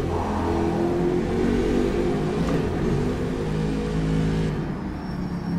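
A Panoz Roadster in the racing sim rFactor 2 revs hard toward the red line, a loud, sustained engine drone with climbing harmonics that holds steady before easing off near the end.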